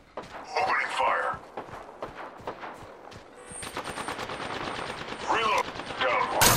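A charge rifle fires in a video game, sharp rapid shots and bursts crackling over a busy mix, with voices talking and whispering throughout.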